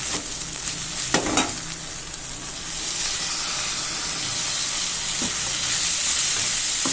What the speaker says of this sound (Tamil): இப்போ வந்து நல்லா தக்காளி வந்து வதங்கிடுச்சு